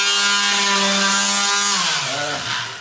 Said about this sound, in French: en mettre un petit coup de ponceuse